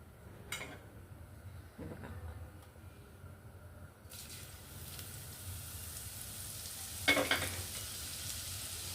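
Ginger, garlic and coconut paste frying in hot oil in a kadhai, a quiet steady sizzle with a few brief scraping stirs and one louder burst of sputtering late on, no talking.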